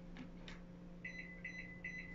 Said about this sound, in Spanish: Tres pitidos.